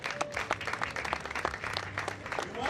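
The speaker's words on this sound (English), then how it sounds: "Please, let's clap for Douala." Scattered clapping from an audience at a university convocation, a sparse patter of individual claps at moderate distance with no voices.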